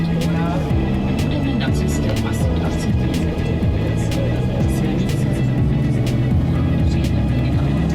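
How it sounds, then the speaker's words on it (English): Bus climbing the narrow, one-way mountain road to the Eagle's Nest near Berchtesgaden, Germany, its engine droning loud and steady from inside with shifting pitch as it labours uphill, and voices talking faintly over it. "you must take a bus up and down the scenic narrow highway"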